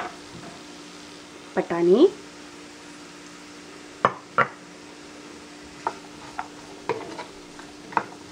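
Chopped vegetables such as potato, carrot and peas sauté with onion in a pan for a Chettinad white kurma, giving a low, steady sizzle broken by a few sharp scrapes and clinks of stirring, while a person talks briefly.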